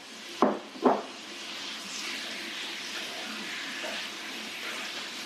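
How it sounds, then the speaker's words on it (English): Cajun chicken drops into hot oil in a single pan with two sharp, loud bursts, then settles into a steady, moderate sizzle that continues alone. "get the chicken in there, get that frying up"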